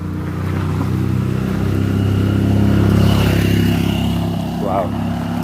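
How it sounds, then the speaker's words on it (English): A motorbike passing behind on a rural homestead track, its engine droning steadily and swelling slightly as it goes by at moderate distance, with ambient outdoor noise around it. "I can hear a motorbike behind me."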